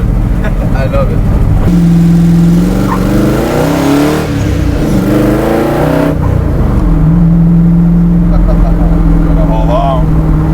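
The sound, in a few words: Shelby Daytona sports car engine revving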